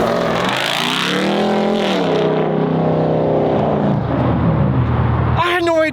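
A truck engine roars loudly up close, its pitch rising and falling as it revs and pulls away, the tone sliding downward as it departs, ending in a brief burst of voice.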